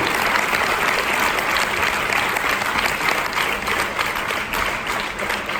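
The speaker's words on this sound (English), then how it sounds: "Give yourself applause" A room full of people at a summer camp seminar claps together, a loud, sustained, evenly dense burst of applause that barely fades before the end.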